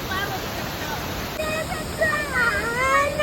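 Rushing water at a waterfall on a trip outdoors, a steady broadband roar running throughout, with voices and whistly tonal sounds rising over it in the second half.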